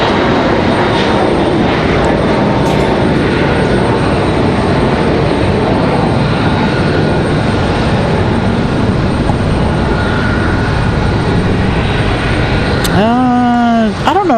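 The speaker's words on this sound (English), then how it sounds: "Yeah, she's on the 737-9 today." Boeing 737-9 airliner bound for Salt Lake City at Raleigh-Durham airport, a loud sustained jet engine rumble that holds steady before a brief warbling tone near the end.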